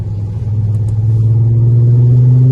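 Audi quattro sports car engine rumbling up close, a deep steady drone that rises slightly in pitch as revs build, with no talk over it.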